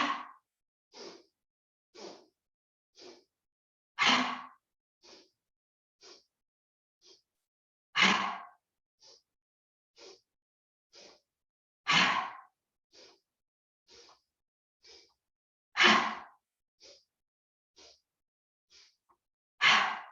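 Forceful breathing exercise in a mindfulness session: repeated sets of short staged inhales, each set ending in a louder forceful exhale, close and clear against silence, with no talk.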